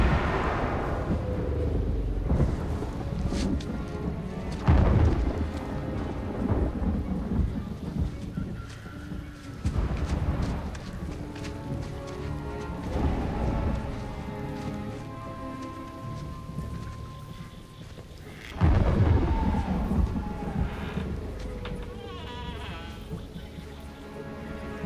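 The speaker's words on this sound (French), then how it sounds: "Ça vient sûrement du tonnerre." A thunderstorm with steady heavy rain and several deep, rumbling thunder crashes rolling in and out, loud and enveloping, with no voices.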